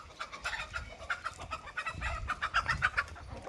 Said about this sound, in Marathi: चिवचिव करतात ते त्या कोंबड्या